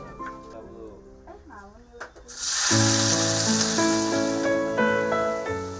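Genjer greens sautéed with garlic, shallots, sliced chili and tomato hit the hot pan with a sudden loud, sustained sizzle that continues under background music, after a stretch of narration.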